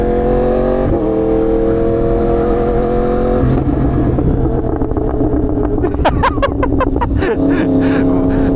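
Motorcycle engine revving loud and close with a steady throaty drone, then a burst of sharp popping backfires crackling in quick clusters near the end, at a cars-and-coffee meet.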